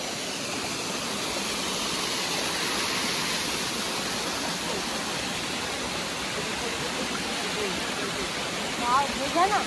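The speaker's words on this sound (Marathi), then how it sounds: "खळखळणारा आवाज किती मस्त येतोय." A river stream gurgles and rushes continuously nearby over small waterfalls, a dense steady wash of water noise that fills the whole scene.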